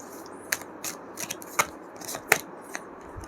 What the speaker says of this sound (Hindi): देख लेते हैं क्लैरिटी के साथ कार्ड्स अच्छे से शफल करके।